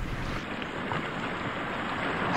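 A ship moves across water in a VRChat game, a faint steady wash of water and wind-like rushing noise that holds evenly for a couple of seconds, with no talk.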